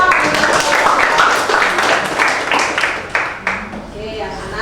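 Students clapping together in a classroom after a presentation, a steady dense patter of many hands that thins toward the end, with faint voices mixed in.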